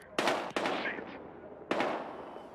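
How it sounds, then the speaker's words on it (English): Gunfire in the Battlefield Hardline video game: three sharp, loud shots ring out with a slight echo, spaced irregularly with a pause before the last one. "We've got gunshots."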